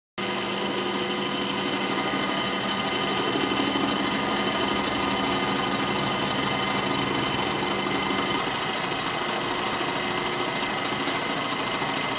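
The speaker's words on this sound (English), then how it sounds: "I'm going to machine this off here in a minute" Machining a valve seat flat during a John Deere B engine rebuild: a steady, loud, continuous mechanical whir and chatter that runs unbroken throughout, close by, with no talk.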